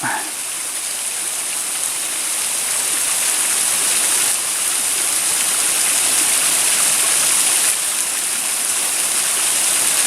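Pixley Falls waterfall and its side streams at Pixley Falls State Park, a loud, steady close rush of pouring and splashing water that fills the whole stretch without letup.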